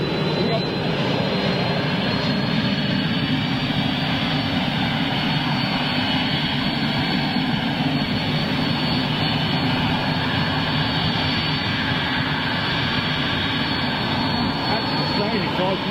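Ex-Kenya Airways jet airliner coming in to land, its engines a loud, steady roar that fills the whole stretch, with people talking over it.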